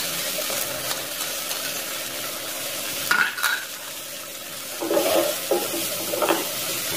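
Chopped tomatoes with kalonji seeds, salt, turmeric and red chilli powder fry loudly in a pan for sabz turi. A constant close sizzle runs throughout, with spoon scrapes and stirring bursts at intervals.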